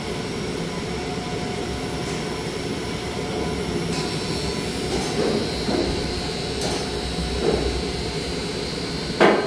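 A brand-new Kone MX18 traction elevator machine runs in its machine room with a steady, loud mechanical whir and hum, marked by a few faint clicks and knocks.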